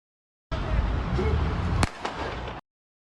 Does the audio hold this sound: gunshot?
yes